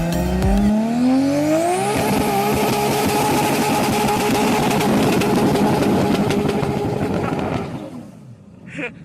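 A 1992-2000 Lexus SC 400's V8 revs up with rising pitch, then settles into a loud, steady close-range drone before dropping away quickly near the end.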